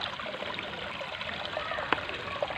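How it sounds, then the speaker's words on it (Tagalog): Water flows steadily from a spring at a jungle resort in Balungao, Pangasinan, making a continuous close rushing trickle with a couple of small splashes and no talk. "ito yung pinanggagalingan ng tubig dito"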